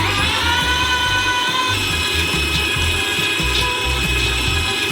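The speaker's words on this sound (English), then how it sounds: "We transfer them into a meat grinder. And grind them through a small nozzle." A meat grinder forces crushed nuts through a small nozzle with a loud, continuous mechanical whir and grinding rumble that carries on steadily throughout.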